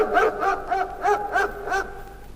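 A storybook dog with eyes as big as saucers barks in a fairy tale, about six evenly spaced, fairly loud woofs over roughly two seconds, heard alone with no voices.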